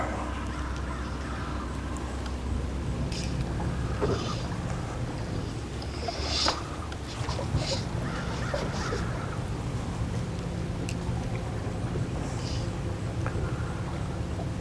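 A boat's trolling motor holding position while fishing, a steady low hum and whir running throughout, with faint water lapping and occasional light knocks in the background.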